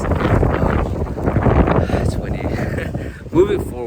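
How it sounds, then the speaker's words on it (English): Heavy wind buffets the microphone with rumbling, uneven gusts; a brief squeaky sound rises near the end. "the reason I say that is because it's windy"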